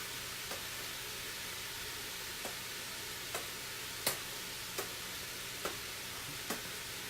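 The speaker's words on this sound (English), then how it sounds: "So I'm going to give my pasta a stir here," Noodles being stirred in a pan for vegan veggie chow mein, a soft steady sizzle under a string of light scraping clicks from the utensil, about seven spaced taps, close and quiet with no talking.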